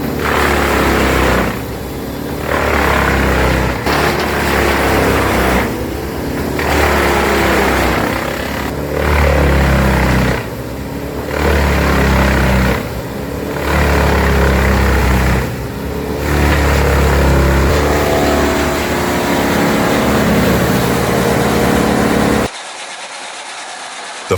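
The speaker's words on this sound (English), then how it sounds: "With its roaring 275 RP Cummins engine, this machine devours timber without hesitation." A wood processor driven by a roaring 275 hp Cummins engine cuts timber, producing a loud, steady engine drone that dips in a regular rhythm as the load comes and goes, with no voices.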